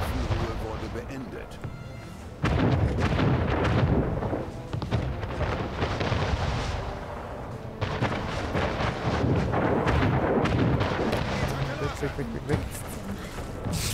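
Booming ship cannon fire during a harbor attack in the video game Anno 1800, heavy rumbling blasts layered over continuous battle noise, with people talking over it throughout.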